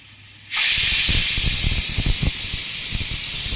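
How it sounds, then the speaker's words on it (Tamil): A sudden loud, steady hiss of steam escaping a pressure cooker bursts on after a quiet moment and keeps rushing without pause. "குக்கரோட மூடியை போட்டு ஒரு விசில் வந்த உடனே ஆஃப் பண்ணி வச்சிடலாம்"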